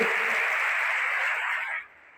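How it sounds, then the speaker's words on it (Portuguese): Congregation applauding at the close of a Sunday church service, a dense steady wash of clapping that fills the space for nearly two seconds before cutting off abruptly. "Dê um aplauso ao Senhor"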